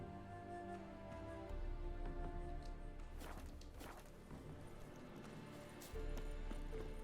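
A horse in The Witcher 3 video game, with steady hooves clip-clopping across the ground at a moderate distance and a faint whinny mixed into the background game ambience.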